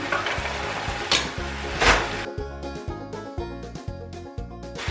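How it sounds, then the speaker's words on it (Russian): Chopped onion and ground turkey sautéing and being stirred in a pan, a steady close sizzle with scraping stir strokes and a low rhythmic background hum, no talking. "Все хорошенько перемешать и буквально еще пару минут пассируем вместе с луковицей."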